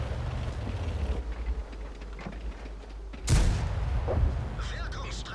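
Someone talks over World of Tanks game noise when a sudden heavy tank cannon blast booms out, followed by rumbling echoes and further background clatter.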